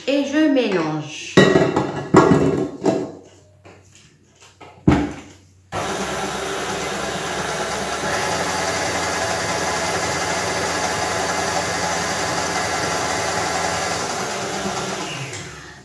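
Beignet batter of sugar, a pinch of salt and vanilla extract is mixed: a few sharp clatters come first, then a loud, steady electric motor whir runs unbroken for about ten seconds before easing off.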